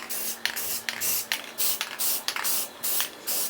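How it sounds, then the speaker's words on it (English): Short bursts of aerosol spray paint hissing onto a steel plate, about eight sprays in a steady rhythm with brief pauses between, close and fairly loud. "I'm just gonna spray paint it to prevent rust"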